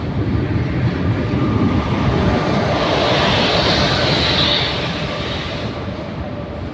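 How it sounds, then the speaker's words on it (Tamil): A Trichy train rolls past at close range, a loud continuous rumble of wheels and carriages with a rising hiss and faint squeal, fading slightly toward the end. "திருச்சி ட்ரெயினுங்க."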